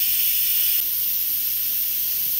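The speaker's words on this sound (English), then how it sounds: "Steam's still coming out of it" Steam hisses steadily from an Instant Pot's steam valve while cooking 16 bean soup, a continuous close, loud rush that dips slightly after the first moment and then holds even.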